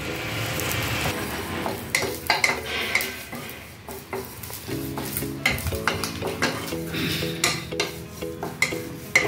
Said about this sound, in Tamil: கருவேப்பிலை போட்டுக்கலாம். அதையும் நல்லா வறுத்துக்கலாம்.